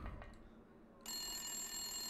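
A telephone rings in the Silent Hill video game, beginning about halfway through as a steady, loud electronic bell tone that continues to the end after a quiet ambient start.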